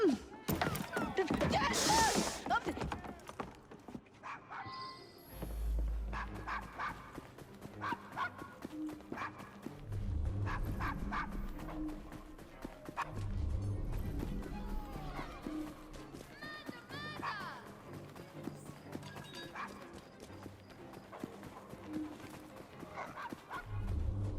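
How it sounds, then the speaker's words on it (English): A dog barks in Assassin's Creed Syndicate, set outside a Victorian London pub, mixed into busy game ambience with hooves, footsteps and crowd noise. The barks are intermittent and moderately close. "Nice doggy."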